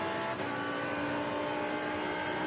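A Lamborghini Super Trofeo race car drives at speed at Imola toward Rivazza corner, its engine holding a loud, steady high-pitched drone with strong harmonic whine, heard on board and continuous throughout.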